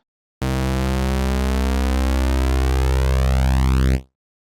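A sustained buzzy detuned saw-wave synthesizer tone with some triangle wave blended in holds for about three and a half seconds, its harmonics slowly shifting and beating, then cuts off cleanly.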